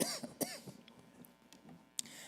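A few sharp, close coughs burst out in quick succession, with softer throaty noises and a short cough near the end, no talking.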